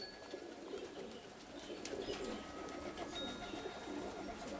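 Roller pigeons coo softly in a loft, repeated low murmuring calls at a moderate distance with faint rustling and no talking.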